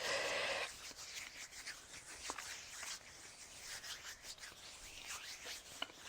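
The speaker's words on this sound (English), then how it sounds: "bring your hands together like crisscross and just massage like you're vigorously washing your hands" Hands rub together vigorously in a criss-cross washing motion, a close, quiet, continuous dry friction with soft scratchy strokes at a steady rhythm.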